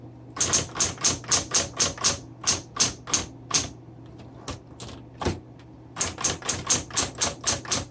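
A 1970s Smith Corona Electra 120 electric typewriter being typed on, crisp rapid keystrokes in quick bursts with a short pause partway, close and loud over a faint motor hum.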